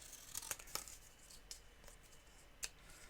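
Long-bladed scissors snip through card stock for a small Christmas sweets basket, giving a few faint, crisp cuts spaced irregularly over quiet room noise.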